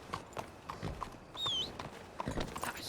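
Hooves of a horse in a role-play western game clip-clop in an uneven walking rhythm, moderately close, with a brief high whinny-like squeal partway through.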